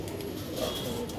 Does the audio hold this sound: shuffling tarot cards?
no